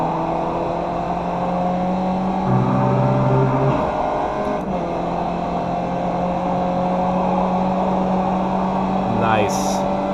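A race car engine drones steadily at Circuit Park Zandvoort in the iRacing simulator, with its pitch shifting through gear changes and acceleration out of a corner. The engine sound is continuous and fairly loud.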